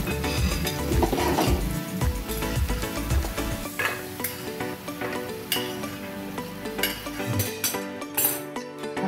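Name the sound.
transferring fried capsicum, onion and peas into a pot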